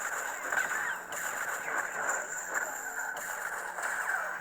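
A Rebel Sabers Light's Embrace lightsaber hums with a buzzing, crackling electronic tone, broken by a few brief clash bursts, fairly quiet and continuous with no voices.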